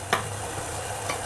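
Water boiling hard in a pot set up for steaming dhokla, a continuous bubbling hiss with a couple of faint clicks, close and fairly quiet, with no voices.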